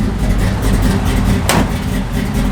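A 1971 Chevrolet C10 pickup engine idles steadily up close with a deep, continuous low rumble and a brief rising rev midway, while someone talks over it.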